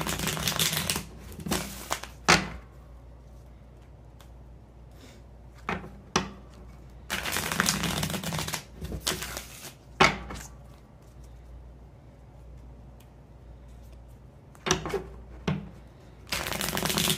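A deck of tarot cards is shuffled in several bursts of riffling and sliding card noise, each lasting about a second, separated by quiet pauses, close and fairly loud with no talking.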